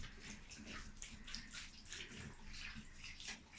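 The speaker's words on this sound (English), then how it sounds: "We have tray under the bucket, so the extra water runs out right away." Excess water trickling and draining out through seed trays set under a bucket after watering pea seedlings, a steady soft splashing flow with no talk.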